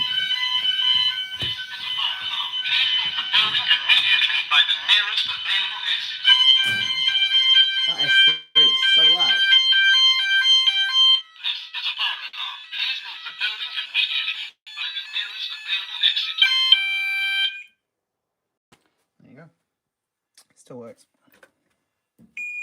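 A Vigilon fire alarm system sounds during a repair test, sending steady, shrill electronic alarm tones that change pattern partway through and then stop near the end, heard indoors with some faint handling noises.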